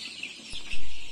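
KUB-2 chickens cluck softly at close range, with short calls and a brief thump partway through.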